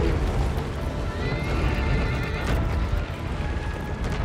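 A horse in the video game Shadow of the Colossus whinnies loudly while its hooves clip-clop steadily underneath, a busy, close, continuous mix with no talking.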